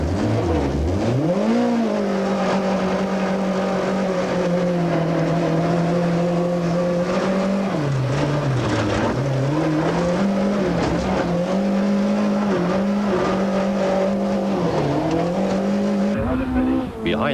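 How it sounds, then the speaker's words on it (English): Toyota Conquest rally car driven on a 1995 rally stage with a broken rear swing arm, its engine droning loud and steady with pitch dips and rises as it shifts and limps along, tires scrabbling beneath. "A broken back swing arm makes the Toyota difficult to drive as Brady and Guy limp the Conquest through t"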